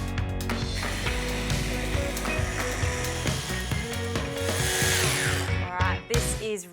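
A blender blitzes papaya and coconut cream sauce, a continuous loud whirring, grinding drone that runs for several seconds before stopping.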